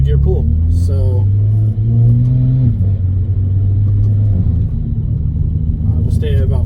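A car engine pulls at full throttle in third gear from about 1500 RPM, a loud steady low drone that climbs in pitch, with speech heard over it.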